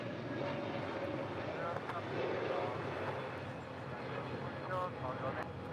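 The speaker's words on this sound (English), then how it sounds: "This is Air France Flight 65 departing to, taking off to Paris." An Air France Boeing 777-300ER, flight 65 at LAX, taking off for Paris: a steady, broad jet engine roar at moderate distance, with people talking over it throughout.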